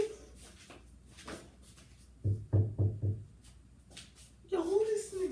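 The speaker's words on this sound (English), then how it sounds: "Who the fuck knocking on my door" Knocking on a door, a burst of four or five loud, close thumps in quick succession midway through, with faint rustling before and a voice coming in at the end.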